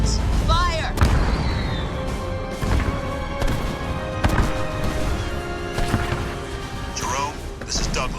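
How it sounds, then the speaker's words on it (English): Kodiak artillery pounds away in a Halo Wars battle cutscene, heavy booms and crashing impacts landing at irregular intervals, loud and close, mixed with radio-style voices and sci-fi effects. "Deploy the Kodiak and stand by on my orders. You have a target for me, sir? Acquiring target. Kodiaks, fire!"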